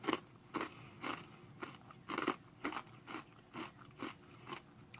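Dark chocolate-covered crunchy snack bitten and chewed close to the mic, a series of about ten sharp crunches at a steady chewing rhythm, with no talk.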